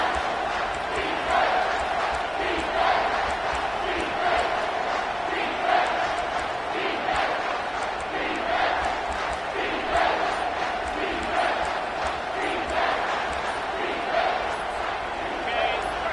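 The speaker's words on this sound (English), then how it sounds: "Decibels rising as the crowd gets behind this defense on third down." A football stadium crowd roars steadily through a third-down defensive stand in an Auburn vs. Tennessee game, a dense, sustained wall of cheering and yelling that swells in waves without letup.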